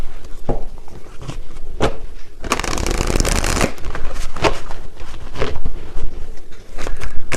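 Tarot cards are riffled and shuffled in quick bursts, with one dense flurry of rapid card flicks in the middle and sharp taps of cards being drawn and laid down, close to the microphone, with no talking.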